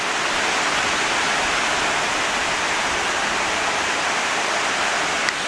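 Paine Falls pours as a constant, loud roar of rushing water, broad and unbroken, heard alone without voices.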